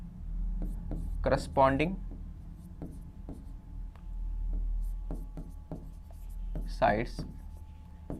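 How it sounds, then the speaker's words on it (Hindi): Marker or chalk scratching on a board in a geometry lesson, short squeaky strokes and taps forming words, interleaved with a voice speaking. "यहां पे लिखता हूं मैं"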